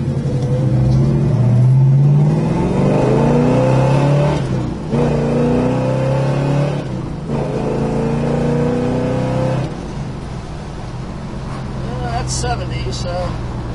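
1969 Plymouth GTX V8 rumbles deep and throaty while driving, revving up and easing back in rising and falling pulls, fairly close and strong, with a voice talking faintly near the end.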